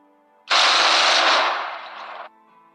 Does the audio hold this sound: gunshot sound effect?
yes